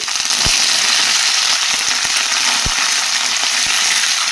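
Chana dal, urad dal, broken dried red chillies and curry leaves fry in hot oil for a coriander pickle seasoning, a loud continuous sizzle with a few sharp pops and crackles scattered through it.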